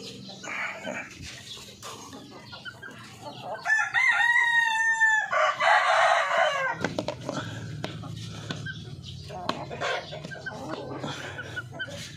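A rooster crows loudly a couple of times while hens cluck nearby, with a dog barking briefly in the background.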